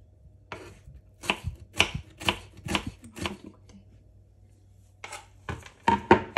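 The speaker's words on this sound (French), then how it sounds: "Donc là, je commence par couper l'oignon." A knife chops a large onion on a board in a home kitchen, giving a quick run of crisp, close cuts, a short pause, then another burst of chopping.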